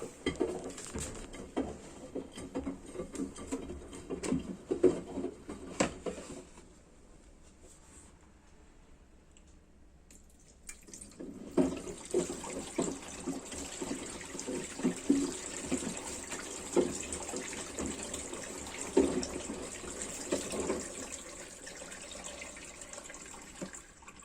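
Tap water runs and splashes steadily for washing. It stops for a few seconds of near quiet, then gushes and patters again, close and fairly soft, with no talking.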